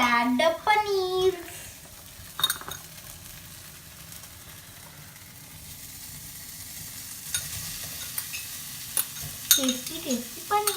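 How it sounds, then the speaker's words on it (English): Paneer frying in spiced oil in a pan sizzles steadily while a spoon stirs it with scraping and occasional clinks against the metal, with brief talk at the start and end. "After the spices release oil, I will add the paneer."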